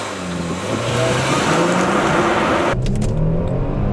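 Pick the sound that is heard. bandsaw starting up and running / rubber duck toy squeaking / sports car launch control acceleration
sports car launch control acceleration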